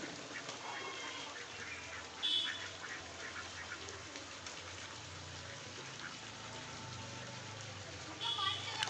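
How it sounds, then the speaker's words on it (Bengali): Ducks quack faintly inside a pigeon loft while pigeons bathe nearby, with a patter like dripping water and a voice talking over the low background. "আর এইদিকে হাঁসগুলো আছে, এর ভিতরে হাঁস আছে।"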